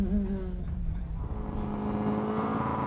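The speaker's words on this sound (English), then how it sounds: "Roger Mayers making all the noise with the Starlet." A Toyota Starlet rally car at a hill climb revs and accelerates away, its engine pitch climbing through the gears as it fades from moderately near to farther off.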